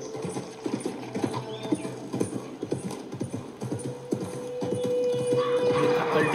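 Horse hooves clip-clop steadily in a video game, a regular close rhythm of hoof strikes with mechanical rattling behind, the hoofbeats giving way to a sustained tone and rising background near the end.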